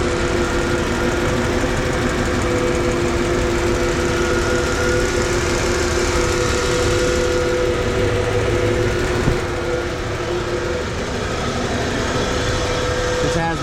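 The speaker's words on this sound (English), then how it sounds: "This has that good old 300 inline 6 sound." The original 300 inline-six engine of a 1994 Ford F-150 with 143k miles idles close by, giving a loud, steady rumble with an even hum throughout.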